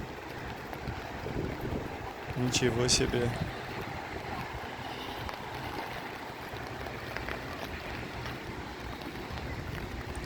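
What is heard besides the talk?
rain and wind in a park in Tashkent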